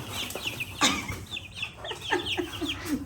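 Young chicks peeping in repeated high, thin chirps close by, several birds cheeping over soft background noise and shuffling.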